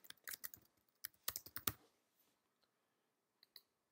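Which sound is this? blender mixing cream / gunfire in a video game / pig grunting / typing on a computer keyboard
typing on a computer keyboard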